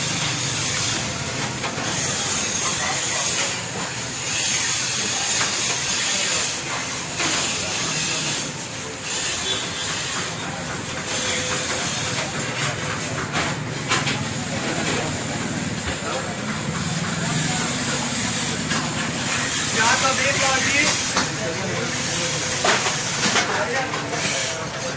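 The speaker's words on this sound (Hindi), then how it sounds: "अब इनका बीफ फ्राई करके दिखाता हूँ आपको।" Beef fries in a karahi with a loud, steady hiss and sizzle that continues throughout, while someone talks over the cooking.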